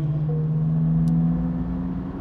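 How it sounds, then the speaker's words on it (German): A GT3 race car on the Bilster Berg circuit during a wet trackday, a loud, close engine drone with a steady low hum that fades slightly at the end. "So, wieder der GT3."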